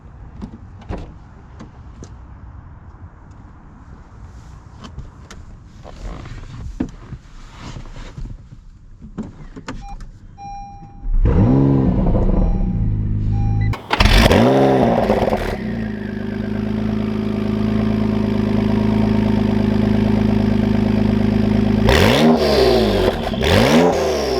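An Acura NSX engine starts and revs hard several times, loud and close, then settles into a steady, throaty idle with further sharp revs near the end.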